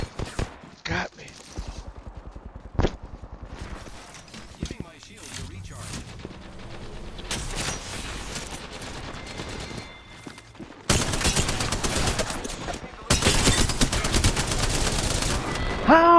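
Rapid automatic gunfire in an online battle royale shooter match, bursts of firing and impacts coming in clusters with louder sustained volleys near the end, mixed with game effects.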